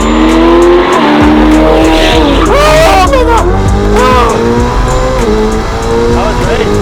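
A Ferrari 812 with a complete Novitec Sport exhaust system roars past loud and close, its engine wailing and rising through the revs with tyre squeal, while people talk excitedly over it.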